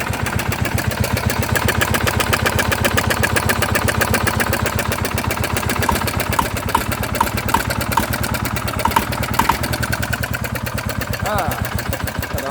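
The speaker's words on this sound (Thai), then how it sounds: "เสียงก็จะไปแตกๆหน่อยนะครับ เพราะว่าท่อไอเสียมันเงียบนะครับ" A motorcycle engine with an open exhaust and no intake filter fitted idles loud and close, with a steady, rapid, throbbing exhaust beat that stays even throughout.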